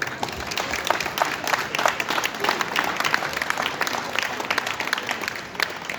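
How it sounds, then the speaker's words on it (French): An audience at a Montpellier awards evening for organic wine fair winemakers breaks into warm, sustained applause, a dense crowd of hand claps with individual sharp claps standing out, continuing evenly throughout. "Je vous propose de les applaudir chaleureusement pour les féliciter."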